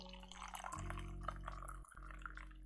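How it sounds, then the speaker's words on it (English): A cup of tea being poured, a steady liquid stream trickling and dripping into the cup for a few seconds over a constant low hum, with a brief pause partway through. "So let's actually pour a cup of tea."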